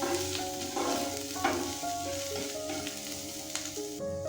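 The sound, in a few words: carrot, onion and capsicum frying with garlic and green chili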